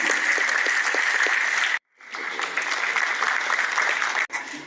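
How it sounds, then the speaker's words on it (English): Sustained applause from a lecture audience, dense and steady, with a brief break before clapping resumes. "please welcome with a huge applause our dear Dr. Udwadia"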